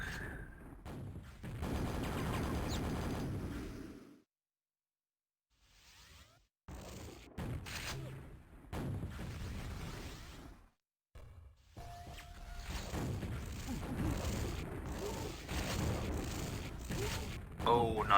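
Rocket launcher blasts and explosions in a Quakeworld match, scattered bursts with brief silent gaps, heard under a commentator's voice.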